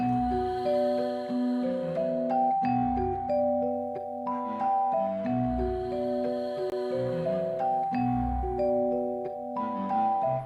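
An orchestral melody steps through sustained notes over a soft, swelling atmospheric synth pad, with a low pulse recurring every couple of seconds.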